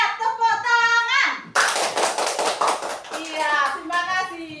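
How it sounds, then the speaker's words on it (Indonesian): Schoolchildren in an Indonesian classroom break into a burst of loud, dense hand clapping, with children's voices chanting and speaking before and after it. "Iya, tepuk tangan"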